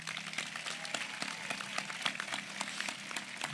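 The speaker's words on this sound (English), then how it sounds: "Can we please give them a round of applause?" Applause at a high school graduation ceremony honoring the student speakers, a fairly faint, scattered round of clapping from the audience with individual claps audible, steady for a few seconds.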